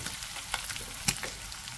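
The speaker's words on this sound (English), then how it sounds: "Nice sizzle." Bacon sizzles and crackles steadily in a hot pan, with a couple of sharper pops standing out from the fizzing.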